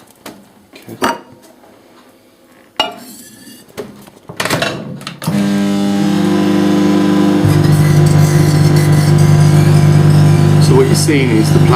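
A microwave oven with a hole cut through it is switched on to make plasma: after some clunks and handling, a loud steady electrical hum starts and builds into a constant buzzing drone.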